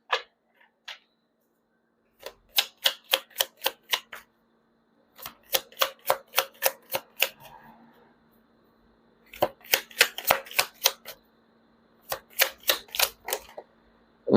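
Tarot cards are handled and shuffled in quick bursts of crisp snapping clicks, several rapid flurries separated by short pauses, close and dry with no talking.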